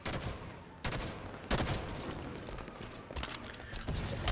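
Rapid gunfire in the video game Halo 5, dense bursts of shots fired close and loud, with short pauses between strings of rounds.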